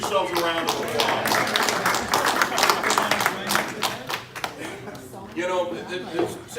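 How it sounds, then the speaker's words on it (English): Applause fills a room at a Rotary Club new members induction ceremony, a dense, sustained round of clapping from a gathered group, with voices mixed in. "Give yourselves a round of applause."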